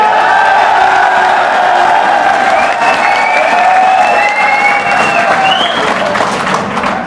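A crowd applauds at a rally for sanitation, electricity, water and hospital workers, a steady, dense wash of clapping and cheering that holds loud for several seconds, with whistles and a few whoops rising over it.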